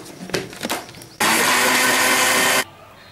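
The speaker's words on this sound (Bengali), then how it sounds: "এবার আমি বাকি পানিটুকু এর মধ্যে দিয়ে আবার ব্লেন্ড করব।" Blender whirring mango and water for a mango milk pudding in one loud continuous burst of a little over a second, preceded by a few light clatters and followed by quiet.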